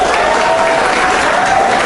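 Loud, dense audience applause at a final round of a safety-themed school quiz competition, continuous and close with a faint tonal whine running beneath the clapping.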